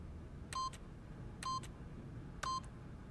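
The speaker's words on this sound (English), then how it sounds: "by simply pushing random buttons on the keypad, Stanley happened to input the correct code by sheer luck" Keypad buttons are pressed one at a time to enter a code in The Stanley Parable: Ultra Deluxe, giving three short, clean electronic tones spaced about a second apart over quiet room tone.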